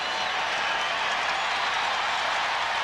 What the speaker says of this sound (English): That's the reason for the crowd noise.